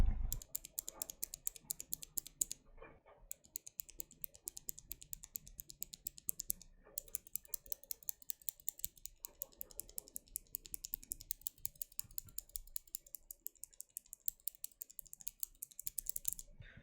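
Steady typing on a Keychron K8 mechanical keyboard, comparing unlubed and lubed switches with springs lubed in Krytox 105G0: crisp, close keystroke clatter in fast, even runs, broken by two short pauses.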